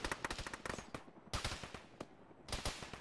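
Gunfire in the military game Arma: repeated rapid bursts of rifle and machine-gun fire crack in clusters with short pauses between volleys, fairly distant and faint.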